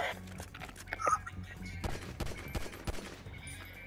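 Gunfire in Grand Theft Auto V, a quick scatter of distant shots and cracks at uneven intervals, fairly faint, mixed with ambient game noise.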